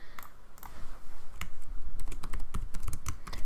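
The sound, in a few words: typing on a computer keyboard in Excel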